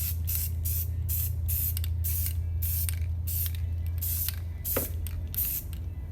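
A spray can hisses in repeated short bursts while painting a van part, each blast loud and close with brief gaps between, over a constant low hum in the background.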